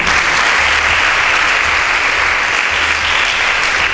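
Steady, dense applause from a large audience at a Nigerian debate event, loud and sustained throughout with no voices on top.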